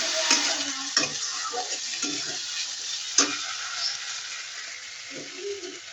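Koi fish being sautéed and stirred in a pan, a close, steady sizzle with scraping stirs and a few sharp utensil knocks.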